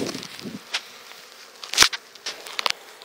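Honeybees buzz around a second opened beehive, with a faint hum and a few close, brief passes of individual bees, plus light clicks and rustles of the hive being handled.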